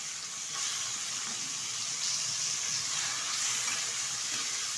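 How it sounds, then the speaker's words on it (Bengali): Small kachki fish, cleaned, salted and coated with turmeric, fry in hot oil in a pan with a continuous close sizzle and crackle that stays steady throughout. "এখন হালকাভাবে ছেড়ে দিয়ে আমি মাছগুলো ভেজে নেব।"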